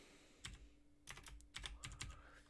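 Typing on a broken computer keyboard: quick bursts of crisp key clicks and clatter, fairly close, with short pauses between runs and no talking.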